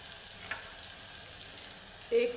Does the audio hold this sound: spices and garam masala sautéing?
yes